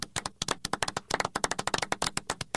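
Rapid sharp hand claps ring out close and loud in a quick, slightly uneven series, a small group or a few people clapping with no talk over it.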